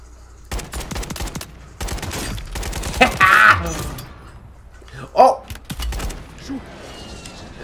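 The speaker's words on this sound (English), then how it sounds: "Someone is shooting me." Short bursts of gunfire in Call of Duty Warzone crack out during a firefight, scattered between stretches of a player talking, with a couple of sharper, louder shots standing out.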